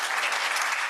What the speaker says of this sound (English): So round of applause for him.